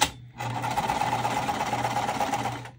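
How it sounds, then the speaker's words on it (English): A sewing machine fitted with a Teflon presser foot stitches waterproof canvas in one steady, continuous run after a brief pause, with no voices. "sewing with this Teflon foot really makes for my machine when I'm sewing waterproof canvas"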